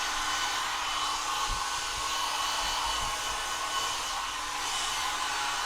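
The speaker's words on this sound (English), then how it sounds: "they've got a hairdryer for Dad" A hair dryer in a cruise ship cabin runs steadily, a constant close whooshing drone with a low motor hum underneath, uninterrupted throughout.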